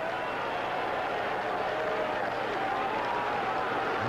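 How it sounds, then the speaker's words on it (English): Yankee fans in a thinning Fenway Park crowd applaud steadily for Ron Guidry going for a strikeout, a dense distant wash of clapping in a big baseball stadium with no other sound over it. "The Yankee fans now applauding for Guidry to end it with a strikeout"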